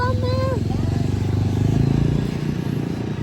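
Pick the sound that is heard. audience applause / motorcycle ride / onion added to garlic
motorcycle ride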